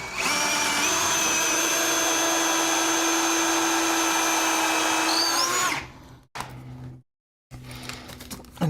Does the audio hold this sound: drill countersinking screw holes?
yes